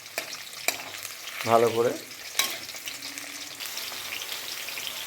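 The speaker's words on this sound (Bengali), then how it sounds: "পেঁয়াজগুলো হালকা ব্রাউনিশ করে ভেজে নিতে হবে" Onions sizzle as they fry in a pan toward light brown for a Kolkata-style mutton keema ghugni, with a steady crackle, a few sharp stirring clinks and a brief spoken phrase in Bengali.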